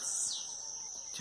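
Small birds sing at dawn on a rural farm, giving thin, high, sustained whistles and a brief falling chirp, faint and somewhat distant over quiet background.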